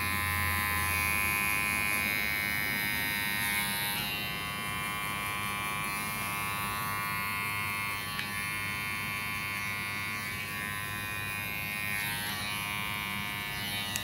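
Electric hair clippers with an open blade buzz steadily and loudly through a skin fade at a barbershop, a constant close-up drone with slight shifts in pitch as the cut goes on and no talking.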